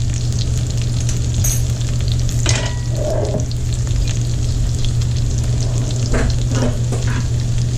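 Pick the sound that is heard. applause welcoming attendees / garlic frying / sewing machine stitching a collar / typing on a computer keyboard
garlic frying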